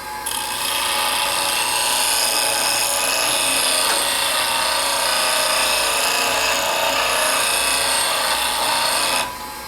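Woodturning tools being sharpened against a bench grinder wheel, a steady, loud, continuous grinding rasp that runs unbroken for nearly ten seconds before cutting off.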